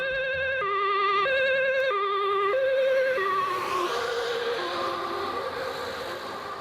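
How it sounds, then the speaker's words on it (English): An ambulance siren in Rotterdam, the Netherlands, sounds in a two-tone alternating wail that drops in pitch partway through as the vehicle passes, then continues lower and slightly fainter as it moves away. "such as this ambulance in Rotterdam in the Netherlands"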